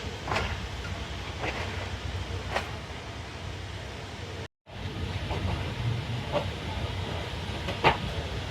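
Faiz Passenger train leaves Mehta Suja station on the Narowal to Lahore line, rolling with a steady rumble and periodic wheel clicks, plus hissing bursts and a brief dropout midway.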